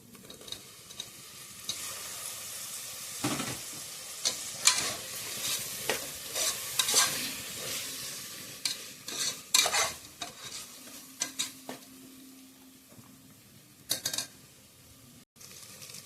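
Tomato goes into a pan of frying spices (cardamom, cinnamon, cloves) for chicken biryani. It brings steady sizzling with repeated spoon stirring and scraping against the pan, and there is no talk.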